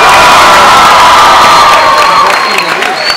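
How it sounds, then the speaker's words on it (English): A loud concert crowd at an anime convention cheers, whoops and claps all at once, a dense roar with shrill shouts that eases slightly toward the end, with some voices in the mix. "Give this man a round of applause."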